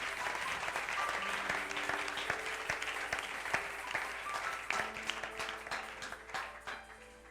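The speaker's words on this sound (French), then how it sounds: "Est-ce qu'on peut acclamer le Seigneur?" A church congregation at a French-language worship service applauds to praise the Lord, with sustained dense clapping that fills the room, slowly thinning toward the end, while some faint voices and sustained tones sound underneath.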